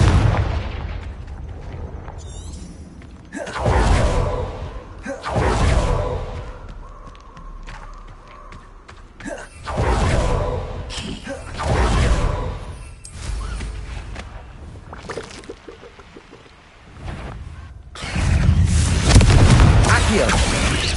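Confringo blasting spell explosions in Hogwarts Legacy: a series of heavy booms, each a separate burst with a rumbling tail, come at irregular intervals amid battle noise, while a voice calls out spell names between them.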